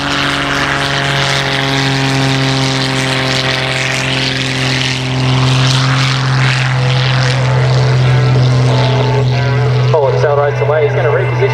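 A propeller aircraft flies a slow manoeuvre at the Serpentine Victoria Centenary Air Show, its engine a loud sustained drone that shifts pitch partway through, with a commentator talking over it.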